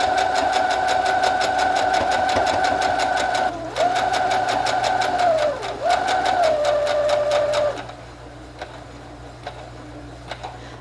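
A sewing machine stitches a quilt block border in a steady, rapid run of needle strokes with a motor whine, briefly pausing and slowing twice before stopping, leaving quiet room noise.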